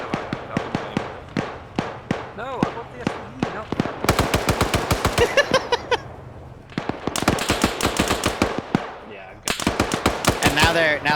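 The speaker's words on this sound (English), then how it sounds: "Now they're shooting each other because they can't PID" Rapid automatic gunfire from a military shooter game, with bursts of rifle shots rattling nearby in dense volleys, pausing briefly and then resuming as players fire on one another.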